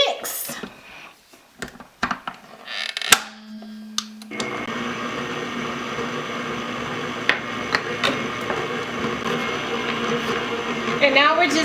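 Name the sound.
electric mixer mixing pound cake batter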